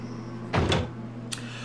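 A door opening in Resident Evil Code Veronica X, set in a prison area: one short mechanical scrape-and-thud over steady low game ambience, followed by a brief faint click.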